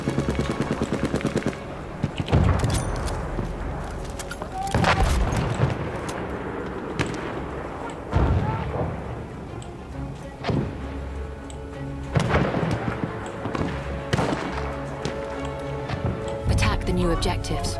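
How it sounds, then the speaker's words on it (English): Enemy artillery barrage in Battlefield 1: repeated heavy booms and rapid gunfire bursts keep crashing over a continuous roar of battle, with voices talking throughout. "Wait for the enemy artillery barrage to stop firing."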